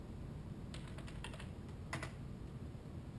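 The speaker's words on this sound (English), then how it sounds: "you're going to pull up the console and type in fly" A computer keyboard types a short console command in a run of light, quick key clicks over a steady background hum, faint and close, with no talking.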